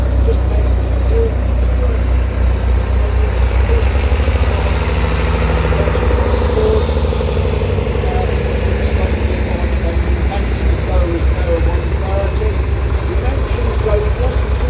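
A Roadless 75 tractor runs at the Christow show, its engine chugging in a steady low, rumbling idle that carries throughout, with outdoor show ambience and someone talking over it.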